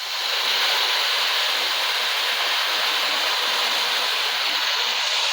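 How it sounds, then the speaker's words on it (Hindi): Jaggery water pours into a pot of sweet vermicelli, a loud, steady, close rushing splash that runs without a break until it cuts off at the end. "अब मैं इसमें डाल दूँगी गुड़ वाला पानी"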